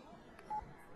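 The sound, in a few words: telephone keypad DTMF tone pressed for phone menu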